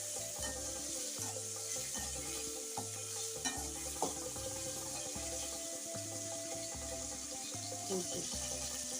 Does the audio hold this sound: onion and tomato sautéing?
yes